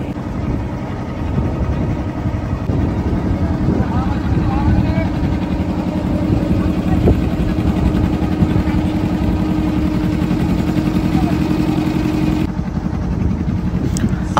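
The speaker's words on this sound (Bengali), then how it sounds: "আর আমরা যাব ওই যে একটা পিছনে বোট আসছে সেই যে" A motor boat engine drones steadily on a river in the Sundarbans near Satjelia, a continuous low mid-pitched rumble that holds loud and even throughout, with some background voices mixed in.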